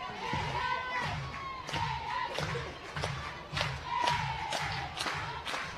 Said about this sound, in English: Crowd already in full throat early here.